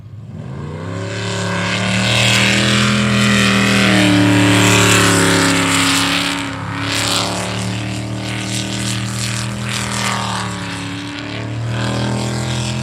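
A jet sprint race boat, number 146A in the 400 class, roars close by with a loud, sustained engine drone that swells, dips briefly, then climbs again through strong rising and falling harmonic tones.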